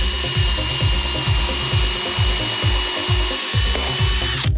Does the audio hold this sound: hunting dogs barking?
no